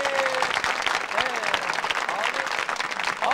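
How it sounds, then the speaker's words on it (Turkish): Studio audience of a Turkish comedy show applauding, dense steady clapping filling the short stretch at close, loud level with no break. "Bir alkış."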